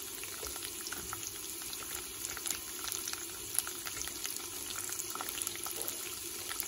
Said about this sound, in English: It started becoming light brown in color and it's time to add the onion. So here I am adding the onion.